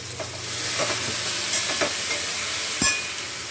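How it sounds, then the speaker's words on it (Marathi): Vegetables stir-fried in a pan over steam with no added water give a steady close sizzle, with a few scraping stirs and a sharp clack near the end, no voices. "अशी बघा, नुसती वाफेवर अशी परतून घेणार आहे."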